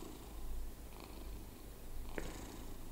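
A cat purrs in the horror video game The Bridge Curse 2, a soft, steady low rumble running through the short moment alongside faint game ambience, with a couple of brief higher chimes.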